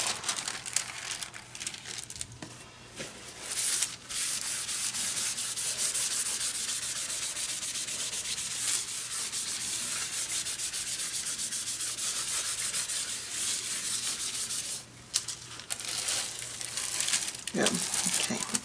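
Paper rubbed by hand over a gel printing plate to pull a second print of paint, a continuous close scratchy rasping that runs almost unbroken, with brief pauses and crinkles near the start and end.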